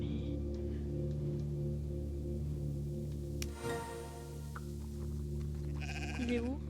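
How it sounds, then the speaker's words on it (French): In a farm video game, a sheep gives a short bleat near the end over a steady, droning background tone. "Tiens, il est là le mouton."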